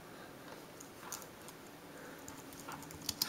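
Computer keyboard being typed on during setup of a Windows 7 and OS X Lion dual-boot, faint scattered key clicks in an uneven rhythm with a couple of sharper taps at the end.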